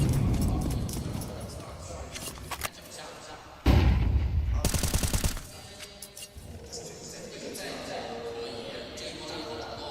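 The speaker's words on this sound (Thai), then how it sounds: "ให้เสียงปืนได้กล่อมเรานอน" Bursts of video game gunfire during a live-streamed IEM Chengdu 2025 esports match, including a loud rapid volley of shots midway, over background game sounds and a talking voice.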